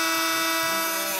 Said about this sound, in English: I think there might be a metal bar in there, so I'm going to grind.